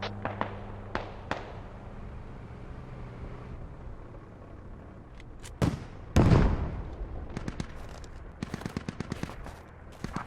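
Mortar fire in a military video game: sharp scattered blasts and cracks, some close and loud, one heavy impact rumbling in the middle, with bursts of rapid shots near the end over a quiet background.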